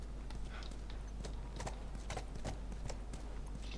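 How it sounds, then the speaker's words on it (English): A horse's hooves clip-clop in the video game The Last of Us, a brisk, fairly close walking rhythm of sharp knocks over a steady low background hum. "Oh, she decided to bring the horse in."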